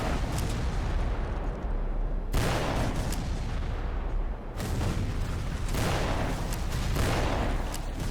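Gunfire and booming battle noise from the History Channel Civil War video game, a dense, continuous din with sharp onsets near 2.3 and 4.6 seconds, loud throughout with no talk.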